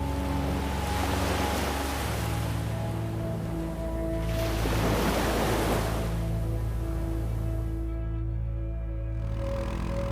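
Waves from a freezing sea break against sheer basalt cliffs in the Faroe Islands, a continuous roar swelling in two broad surges over a low, steady tonal drone.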